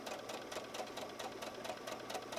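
A sewing machine runs a steady straight stitch around the mouth of an Easter bunny fabric place mat, its needle chattering in a fast, even rhythm, close and continuous with no talking.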